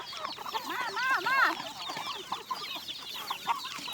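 Chickens cluck and chatter nearby at a rural home where cattle are being herded into a pen, a busy overlapping flock with a few louder bursts in the first half and no talking.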